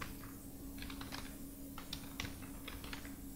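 An email address is typed on a computer keyboard: quiet irregular key clicks in small clusters over a steady low hum, faint and close, with no voices.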